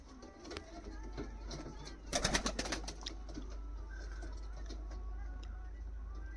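Teddy pigeons, imported from Pakistan, cooing softly in a loft over a constant low hum, with a brief burst of wing flutter or rustling near the middle.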